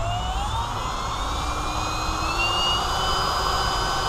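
Drill spinning at high speed while shaping glass with a grinder bit, a steady loud whine with rising pitch that runs without pause, no talking.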